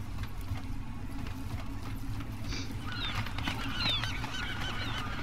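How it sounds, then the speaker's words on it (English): Birds honk repeatedly in the Deus Ex: Mankind Divided video game, several calls over the second half with a steady low ambient rumble of the game world underneath. "Oh, stupid birds."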